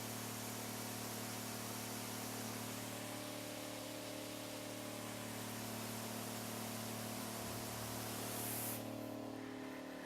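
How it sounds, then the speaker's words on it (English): A steady, hissing spray from agricultural sprayer nozzles at 20 psi runs loud and unbroken alongside a constant mechanical hum, with a brief brighter burst near the end. "Now this is kind of the spray pattern at 20 psi."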